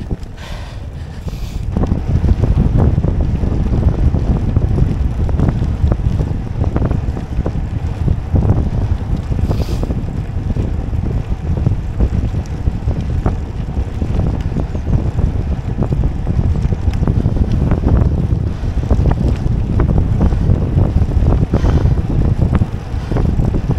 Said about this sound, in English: It's very windy, isn't it?